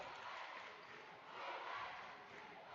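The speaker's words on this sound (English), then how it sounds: "LCA student section cheering on their team, encouraging the defense pressure here" A student section cheers at a varsity girls basketball game, a steady, distant crowd roar that swells slightly midway, faint and continuous.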